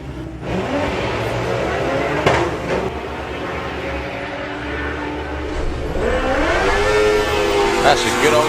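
A VW Mark II Golf with a new engine races at the Santa Pod drag strip, revving hard with a rising roar, while a commentator talks over it.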